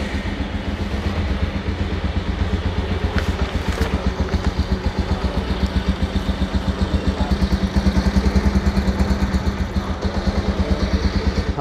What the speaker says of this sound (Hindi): 150 की अगर बात करें तो इसका एग्जॉस्ट नोट और भी थोड़ा बेसी एग्जॉस्ट नोट है